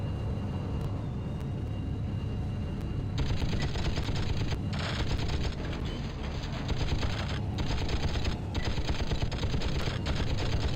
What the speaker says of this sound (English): Let's try the minigun on him, shall we?